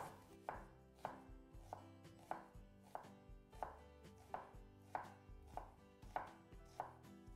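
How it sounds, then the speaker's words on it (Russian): An onion is chopped finely with a knife on a board in about a dozen crisp, evenly spaced cuts, close and quiet with no talking. "Лук мелко нарежу."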